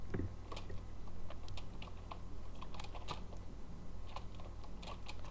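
Rapid, dense clicking of a computer mouse during a Minecraft Egg Wars match, a steady run of close, sharp taps with no talking.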